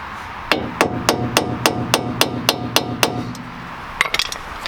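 About a dozen evenly spaced metallic hammer blows on a punch, striking a staked axle nut on a Mazda MX-5 front wheel bearing, ringing close and loud, followed by a few quicker lighter taps and clinks.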